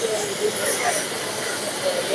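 A Mehta laser metal cutting machine runs at the HIMTEX exhibition with a steady, loud hiss like escaping air or steam, constant and close throughout.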